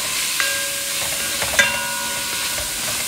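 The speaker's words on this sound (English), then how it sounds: "sauteing the beef" Beef sautéing in a pan for baked ziti gives a steady close sizzling hiss, with a few faint metallic ringing tones and a couple of light stirring knocks partway through.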